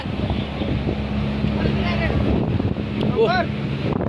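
Wind gusting across the open upper deck of a three-storey river ferry carrying dump trucks, pickups and motorbikes, a steady broadband roar with the low hum of the boat's engine beneath and voices talking over it.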